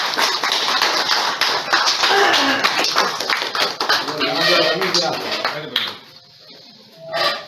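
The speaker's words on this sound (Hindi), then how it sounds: "आइए तालियां बजाइएगा रमीज भाई" Loud, dense clapping from a crowd at a stage play opening ceremony fills most of the clip, mixed with voices, then drops off sharply near the end before a brief swell.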